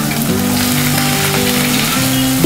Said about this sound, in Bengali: পেঁয়াজগুলোকে আমি হালকা বাদামি রঙে করে ভেজে নেব।